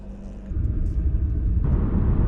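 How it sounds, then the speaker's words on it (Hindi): Road traffic rumbles loudly and steadily in a Canadian street, a vehicle swelling closer partway through and the low engine roar thickening, with no talking. "गाड़ियों की आवाज़ें देखो कितनी आ रही है"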